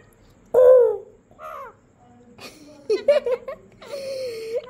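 A parrot's harsh, caw-like calls, several short bursts separated by pauses, close by and fairly loud, mimicking a crow.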